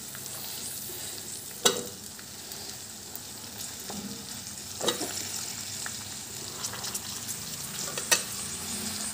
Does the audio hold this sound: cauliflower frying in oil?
yes